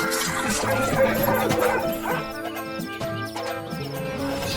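A bulldog barks and yelps in quick, agitated bursts while attacking, loud and close, with whimpering yips mixed in.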